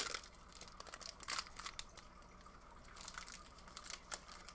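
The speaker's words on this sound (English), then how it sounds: "let's open my next pack here" Plastic booster pack wrapper from a Pokemon Sun & Moon Team Up set crinkles and tears as it is opened, with irregular crackling bursts close to the microphone and no talk over it.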